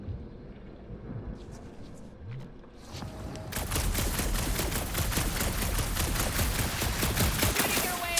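Rapid automatic gunfire erupts in the Guardians of the Galaxy video game, a dense, loud burst of shots that starts after a few seconds of rumbling, scattered noise.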